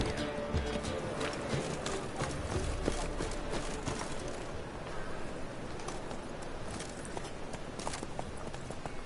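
Roach, a horse in The Witcher 3, clip-clops steadily at a brisk pace with close, rhythmic hooves and a brief whinny, while voices talk over it.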